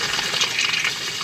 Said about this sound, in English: obviously you add a little bit of water